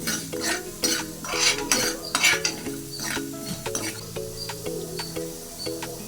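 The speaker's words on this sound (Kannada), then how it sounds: "ಸೊ ಎರಡನ್ನೂ ಕೂಡ ಕೆಂಪಗಾಗೋ ಥರ ಹುರ್ಕೋಬೇಕು. ಚೆನ್ನಾಗಿ ಹುರ್ಕೊಳ್ಳೋಣ ಕೆಂಪಗಾಗೋ ತನಕ." Ingredients sizzle and are stirred in a hot pan until reddish for a raw tamarind chitranna, a steady close frying hiss with repeated scraping and clinks of a spoon against metal, no voices.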